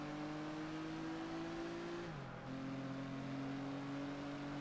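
A Pagani Zonda races in Project Gotham Racing 4, its engine a steady, close, high-revving drone with one brief dip as it shifts gear, heard alone.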